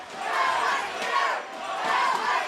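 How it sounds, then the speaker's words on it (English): A home crowd of Husky fans roars and cheers at a women's university hockey championship final, a loud sustained wash of voices that swells and dips in waves throughout. "As you could hear the Husky crowd making some noise here, trying to cheer them on here."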